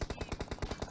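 Automatic gunfire crackles in a PUBG Mobile scrim, about nine evenly spaced shots in a steady burst, fairly quiet and distant, with no talking.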